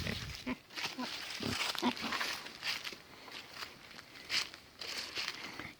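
Pigs on a farm grunt and snuffle close by in short irregular bursts, mixed with shuffling footsteps and rustling, while a person speaks intermittently.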